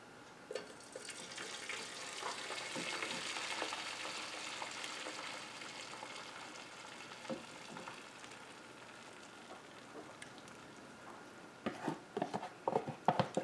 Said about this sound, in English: There's a very little sizzle in there